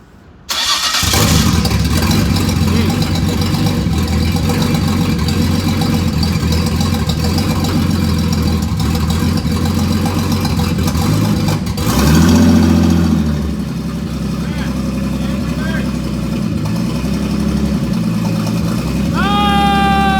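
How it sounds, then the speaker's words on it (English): A car engine starts and runs steadily through first, second and third gears with the wheels rolling, a loud continuous drone with a surge partway through, with people talking over it. "I'm gonna just do first gear, make it roll, then stop the wheels, go second gear, make it roll, then stop the wheels, and then do third gear"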